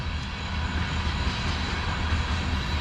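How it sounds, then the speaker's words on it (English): A coal train rolls through a town area, a steady, loud low rumble of railcars passing nearby with constant broadband wheel and track noise throughout, no voices. "We got a coal train, everyone, passing through the town area."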